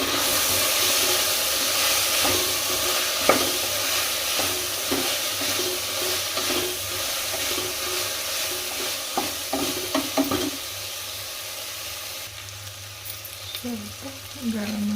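Soaked soybean chunks fry in a hot pan for pulao with a steady, dense sizzle, broken by scraping stirs and clinks of a spoon against the pan, continuous and close throughout.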